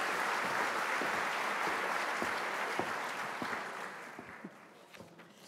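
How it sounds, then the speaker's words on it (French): A graduation-ceremony audience applauds at the Folies in April 2024: a dense, steady wash of many hands clapping, with a few sharper claps standing out, gradually thinning and fading toward the end. "Donc je vous prie de l'applaudir très fort."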